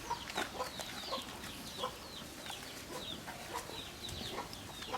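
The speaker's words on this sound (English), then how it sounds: "There's a mother chicken running around the horses, trying to find some power food herself." A mother hen clucks repeatedly in short, soft bursts among horses, with other fowl chattering faintly nearby against a quiet outdoor background.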